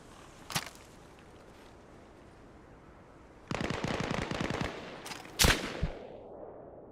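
Shots in a Jeep simulator video game: a single sharp crack, then a burst of rapid gunfire, then another loud shot followed by a fading rumble, all moderately close with no talking.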